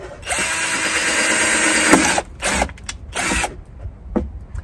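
A power drill whirs steadily for about two seconds while drilling drainage holes in the bottom of a wooden dresser drawer, then runs in several shorter bursts with brief pauses between, close and loud.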